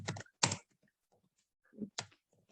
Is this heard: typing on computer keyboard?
yes